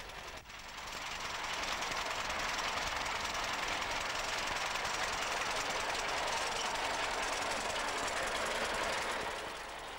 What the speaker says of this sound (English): Some tractors were fitted with other equipment, such as the McConnell hedge cutter, powered by a small stationary engine.